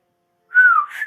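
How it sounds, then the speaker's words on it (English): A single sharp, shrill human whistle, one brief sliding note that rises then falls and ends in a higher flick, loud and alone against silence. "You hear a sharp, shrill whistle just echo through the entire chamber."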